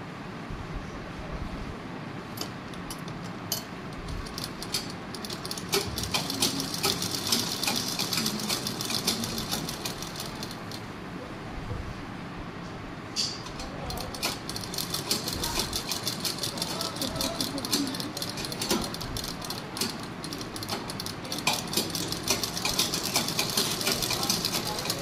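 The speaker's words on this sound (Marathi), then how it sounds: "हे बघा, एका बाजूने शिवून घ्यायचं आहे" A sewing machine stitches a baby knicker seam, its steady mechanical whirr running through the whole span with brief stops and restarts, while a person talks over it.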